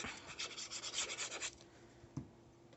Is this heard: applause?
no